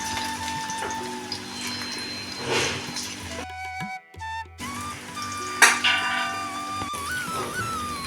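Cauliflower frying in hot oil in a home kitchen, a steady close bubbling sizzle with faint stirring and a few brief clanks partway through.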